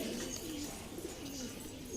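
A soft-bodied high flyer pigeon with pale yellow eyes, held in the hand, gives low, steady cooing through a faint background hum, with no talking.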